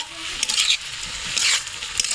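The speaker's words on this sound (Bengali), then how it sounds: "একটু নাড়াচাড়া দিয়ে নেব।" Cooked mango and sugar are stirred in a pan, making soft scraping sweeps in bursts over a faint sizzle, close and fairly loud, with no voices.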